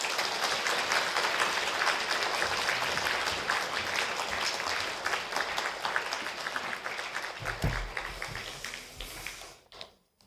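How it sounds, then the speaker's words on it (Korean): A church audience at a Korean women's school lecture on small-group leadership and spirituality applauds to welcome a pastor; broad, sustained clapping from a crowd that thins out and fades to silence near the end. "박수로 환영해 주시기 바랍니다."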